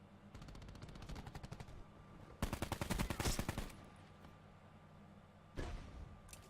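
Tempest gunfire in Black Ops 4 cracks out in rapid bursts: a string of quick shots, then a louder, denser volley, and after a pause one more short burst, all fairly close.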